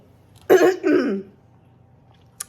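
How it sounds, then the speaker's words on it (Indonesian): A single close throaty cough in two quick bursts, followed by silence and a faint click. "lagi batuk"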